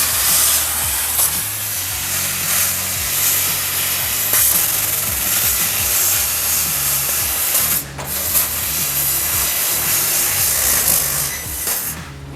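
A laser cutting machine slices black steel with a continuous loud hiss and a whirring machine drone, broken by a brief dip partway through as the cutting head moves.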